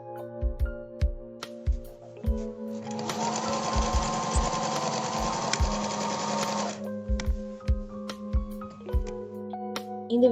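A battery-powered mini sewing machine stitches in a steady, close burst of several seconds, with clicks and taps before and after the run.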